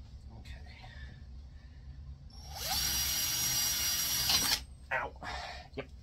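Power drill fitted with a slightly loose drill bit, run during greenhouse work, whining loudly and steadily for about two seconds before cutting off, with quieter handling noises around it.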